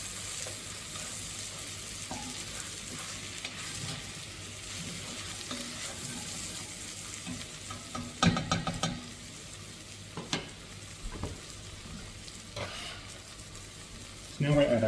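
Beef bourguignon stew in red wine is stirred in a pot over a low, steady sizzle, with a few louder scraping strokes breaking through near the end.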